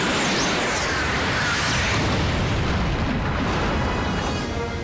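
Missile explosion in a disaster action movie, a loud, dense, sustained roaring blast with rumbling low end that fills the whole stretch and fades slightly toward the end, with no voices.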